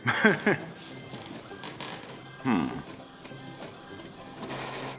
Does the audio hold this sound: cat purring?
no